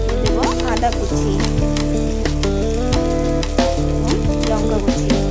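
Chopped garlic and ginger sizzle steadily in hot oil for a dhaba-style tadka, with a continuous close frying hiss, occasional stirring clicks and a low musical background throughout.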